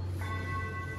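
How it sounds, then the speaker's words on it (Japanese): A chime rings out in steady sustained tones, held at an even moderate level for the whole second with no voices over it. "あ、チャイム"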